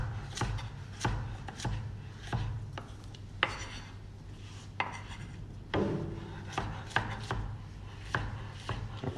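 A knife chops red onion on a wooden board in steady, close, crisp strokes with short pauses between runs, no talking over it.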